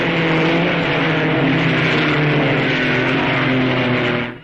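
Loud, continuous engine roar from 1955 Formula One cars at the Belgian Grand Prix, with Fangio's and Moss's machines in the field, holding steady and close before cutting off abruptly at the end.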